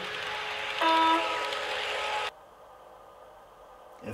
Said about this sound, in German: Hornsignal auslösen.